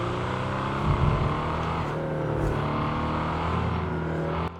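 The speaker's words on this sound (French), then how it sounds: "Je vais me faire spawn une voiture. Une Mercedes G63 Mansouri, regardez." A Mercedes G63 engine in a modded GTA game, a steady deep idling drone with layered harmonic hum and a slight rev swell near the start, sustained and close.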